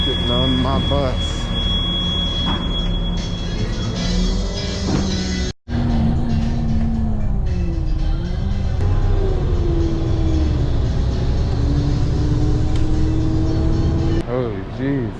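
An airport shuttle bus drives along with a steady engine drone and shifting whine, briefly cutting out once midway, while a person talks over the running vehicle.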